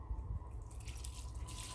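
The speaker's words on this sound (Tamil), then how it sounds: "ஊற வச்ச தண்ணியை வடிகட்டிட்டு அரிசியை சேர்த்துடலாம்" Soaking water draining off rice for chicken biryani, a faint wet trickle and dripping close by, with no voices.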